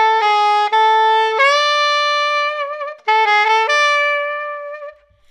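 Solo saxophone playing a short bebop lick cell, two bright phrases of quick tongued notes with a sustained tone and a slight bend, close and clear with no accompaniment.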